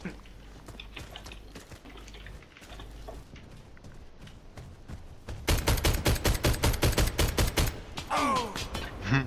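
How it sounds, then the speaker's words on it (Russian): Gunfire in the shooter Warface, with a SiG Sauer P226 C pistol in a one-on-one match; scattered shots early, then a loud, dense burst of rapid automatic fire in the second half with metallic rattles, no talking. "он стреляет, пугает меня."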